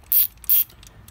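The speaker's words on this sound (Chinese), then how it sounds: "好，这就是快门。" The shutter mechanism of a Widelus F6B panoramic camera fires twice in quick succession, each a short bright mechanical whir and click heard up close in a quiet room.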